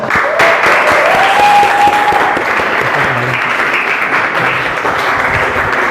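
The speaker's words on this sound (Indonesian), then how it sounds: "Tepuk tangan untuk semua." Students in a classroom clap together in sustained, loud applause that fills the room for several seconds, with faint murmurs of voices beneath the clapping.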